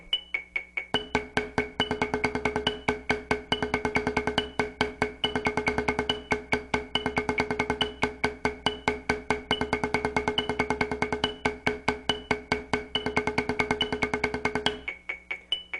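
A drum roll exercise played against a metronome at quarter note 70, even rapid strokes in a continuous steady pattern over a regular click, sustained for about fourteen seconds and then stopping.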